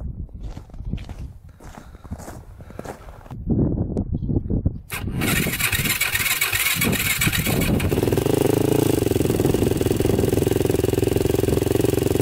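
A Yamaha YFZ450 quad starts after footsteps and shuffling nearby, then keeps running loud and close with a steady, busy engine roar.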